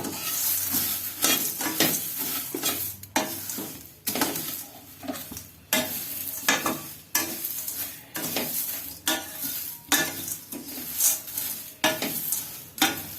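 Jowar, bajra and ragi flakes stirred in a dry pan, a continuous busy scraping and rustling with frequent spoon knocks against the metal, loud and close with no voices.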